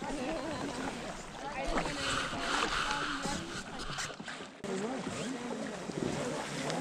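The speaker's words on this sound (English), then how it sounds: "We are now on the kayak." A kayak moves through water in Antarctica, with splashing and water noise under near, continuous conversation among the paddlers.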